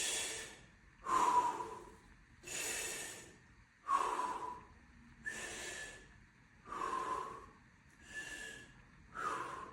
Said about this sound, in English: And then from here we'll do 6 normal breaths.